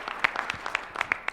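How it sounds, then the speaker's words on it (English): A small audience at a tech startup competition gives scattered, sparse applause, with individual hand claps popping out unevenly for just over a second. "Let's give her a big round of applause,"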